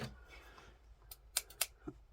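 Large scissors snip through fabric just below a dress bodice seam, giving a few sharp, close cuts clustered in the second half, set against a quiet background.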